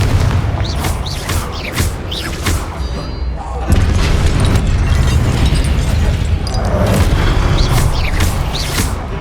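Fiery Confringo spell blasts in Hogwarts Legacy, loud booming bursts with crackling debris, repeating amid constant game effects and music, a voice calling out over the action.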